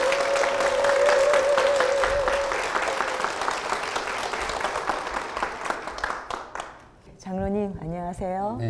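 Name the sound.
church audience applause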